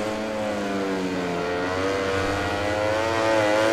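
A loud, high-revving Ducati GP20 Desmo motorcycle engine in the video game MotoGP 20 drones steadily, its pitch sliding and rising slightly, rough and close with no talking.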